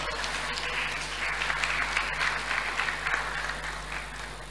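A church congregation applauding loudly and steadily, a dense wash of hand claps that holds at an even level throughout with no voices over it.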